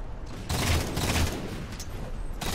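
Sniper rifle gunfire in a competitive 1v1 video game match, heard as a burst of loud, dense shot noise from about half a second on, with no talk over it.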